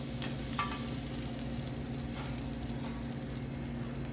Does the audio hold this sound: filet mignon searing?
yes